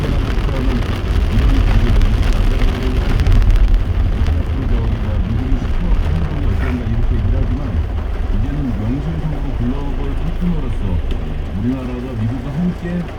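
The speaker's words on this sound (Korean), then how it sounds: "비가 너무 자주 온다 네" Steady rain hisses throughout, a dense wash of falling water with voices talking faintly underneath and an occasional passing vehicle rumble.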